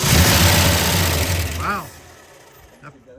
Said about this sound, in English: That fired right up.